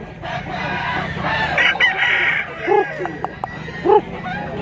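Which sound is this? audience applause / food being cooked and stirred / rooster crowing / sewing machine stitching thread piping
rooster crowing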